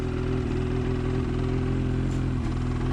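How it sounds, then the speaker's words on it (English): A 2019 Ski-Doo REV Gen4 MXZ Blizzard 600R E-TEC snowmobile engine idles close by with a loud, continuous drone whose slightly uneven pulsing suggests a rough idle, with no other sound over it. "Nice and quiet. Has a little bit of a rough idle."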